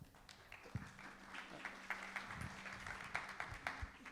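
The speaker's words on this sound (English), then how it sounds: "Got to leave time for the applause." Light applause from an audience at a poll briefing, scattered claps over a low hum of room noise and faint murmuring, fairly quiet and distant.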